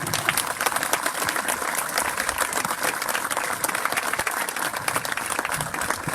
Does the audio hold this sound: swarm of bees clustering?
no